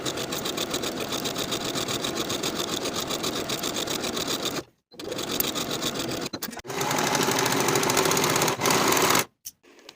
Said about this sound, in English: We're going to sew the center back seam from top to bottom with a 3/8 inch seam allowance